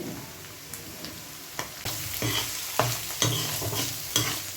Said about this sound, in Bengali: ততক্ষণ এখানে কিমাটা নাড়িয়ে দিই।